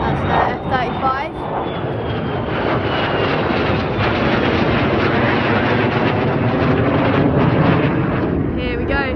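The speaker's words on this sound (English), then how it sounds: "That's the F-35." An F-35 Lightning jet roars steadily overhead at RAF Lakenheath, a loud, sustained engine rumble with wind buffeting the microphone and a person talking over it.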